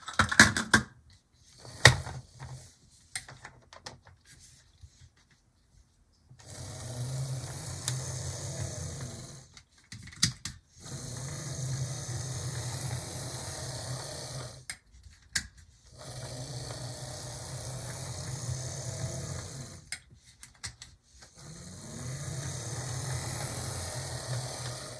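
A Roco HO scale Pennsylvania Railroad Baldwin model steam locomotive with a can motor and big flywheel runs along the track, giving a steady mechanical whir in several long stretches separated by brief pauses and a few clicks.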